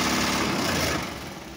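A 2020 Toyota Vios engine runs with the air conditioning on, heard up close as a steady buzzing hum with strong vibration that eases slightly toward the end.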